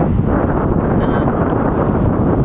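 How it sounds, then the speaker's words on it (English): Strong wind buffets the microphone in a continuous, loud rumbling roar, with no other sounds standing out. "It's really windy out here."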